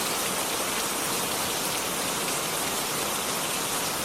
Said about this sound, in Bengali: দেখো এখন বাইরে বৃষ্টি হচ্ছে